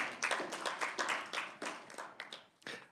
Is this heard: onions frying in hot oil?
no